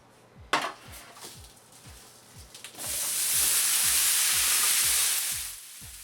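Sriracha-coated cauliflower hits a preheated roasting pan: a series of faint scraping taps, then a loud, steady sizzle that swells and holds for several seconds before easing off.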